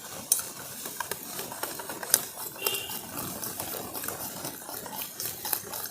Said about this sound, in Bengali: এরপর আমি সমস্ত কিছু একসঙ্গে মিশিয়ে দিচ্ছি